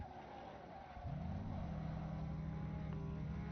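GT3 race car in an endurance racing video game at the Nürburgring 24-hour event passing by, its engine note arriving abruptly after a second and holding as a loud, steady drone.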